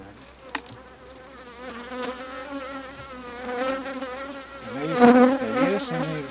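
Italian honey bees (Apis mellifera ligustica) buzz loudly and continuously around an opened hive during a spring inspection, a dense wavering drone that swells near the end.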